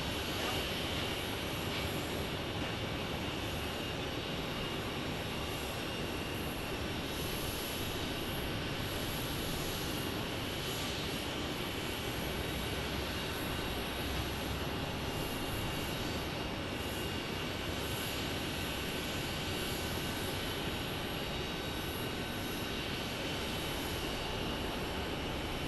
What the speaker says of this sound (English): our 777's going to head over here to the B gates